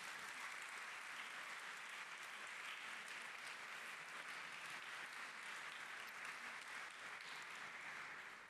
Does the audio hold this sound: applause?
yes